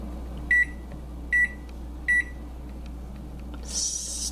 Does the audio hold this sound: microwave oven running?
yes